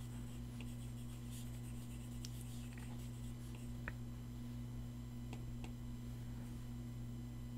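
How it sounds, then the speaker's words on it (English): Stylus strokes erasing on a tablet in Procreate while coloring comic art: soft, scratchy rubbing taps scattered through the clip, faint and close over a steady low electrical hum. "so I'm actually going to erase a lot of this back"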